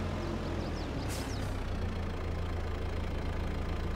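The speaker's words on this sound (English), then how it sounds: "I think this little tractor has about 105 horsepower." A roughly 105-horsepower tractor engine idling in Farming Simulator 22, a steady low, knocking drone that holds evenly throughout with no other sounds.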